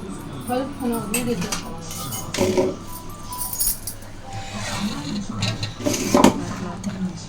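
Homemade ghee being stirred into jaggery syrup in a pot, with irregular metallic clinks and scraping of a utensil against the vessel under steady talk and background household noise.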